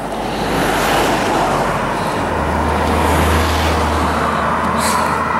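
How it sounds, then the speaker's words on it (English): A car rushes past on a road in the Clwydian hills, its rising and falling whoosh heard close by beneath strong gusting wind noise that fills the whole clip. "And also it contains cars."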